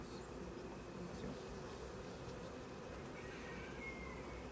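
Honeybees buzz steadily around an open hive while a beekeeper works it during a September honey harvest and winter preparation, a continuous even drone filling the whole stretch with no voices.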